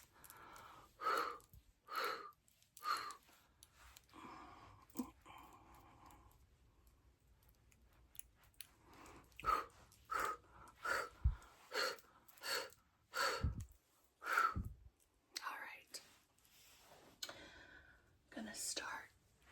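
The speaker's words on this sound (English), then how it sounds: "I'm going to do some aggressive Aries breaths." Forceful, rhythmic breaths drawn and pushed out in close, whispery bursts during an ASMR Celtic Reiki healing session, about a dozen sharp exhalations with short pauses between them and no speech.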